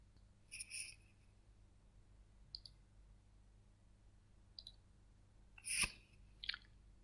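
Faint computer mouse clicks while working in PlanSwift estimating software, a few soft, isolated clicks scattered across a quiet background with no talking.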